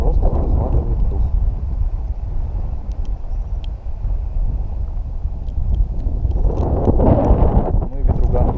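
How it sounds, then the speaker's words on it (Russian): Strong wind buffets the microphone on an open roadside during a long car trip from Yakutsk toward Crimea, a steady low roar that swells louder near the end, with someone speaking over it. "Ну и ветруган дует."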